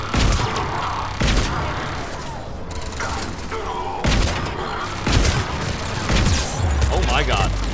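Heavy turret gunfire and explosions in the video game Mass Effect Legendary Edition, a dense continuous barrage of loud booms and rattling shots with mechanical sounds, running throughout.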